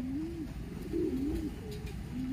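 A white pigeon at a house gives a string of low, wavering coos, close and clear, with no talking over them.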